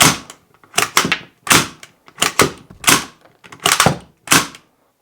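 Sterling L2A3 (Mk.4) submachine gun cycling its action at full speed, a sharp series of about seven loud metallic clacks in an uneven, quick rhythm, heard alone without talk.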